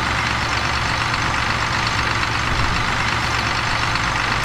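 A John Deere tractor engine idles in a farming video game, a steady, close, low mechanical rumble with a faint knocking texture that holds for the whole stretch, with no talk.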